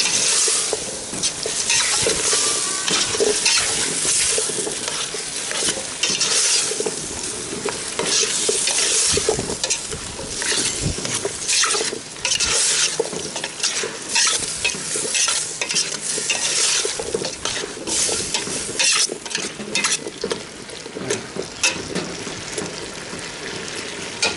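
Potatoes being stir-fried in a pan for potato soup, a steady loud sizzle with scraping stirring strokes throughout, no talking.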